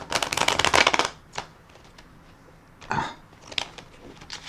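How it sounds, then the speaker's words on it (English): An old tarot deck is shuffled close by, a dense papery riffle for about a second, followed by scattered lighter card flicks and taps in a quiet room. "I will shuffle the cards a bit more."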